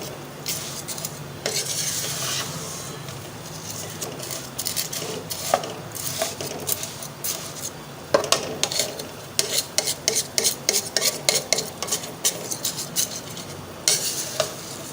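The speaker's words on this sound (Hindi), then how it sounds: "इनको मुसलसल हिलाते रहना है, कहीं ये जल ना जाए।" Vermicelli browning in a pan under continuous stirring makes a dry, close scraping rustle, turning into a quick run of sharp spoon clicks and scrapes against the pan in the second half.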